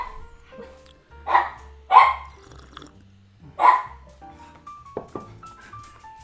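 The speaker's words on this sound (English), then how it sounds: "Excuse my dog." A pet dog barks indoors: three sharp, loud barks spaced about a second apart, then a few fainter yips and household noises in a quiet room.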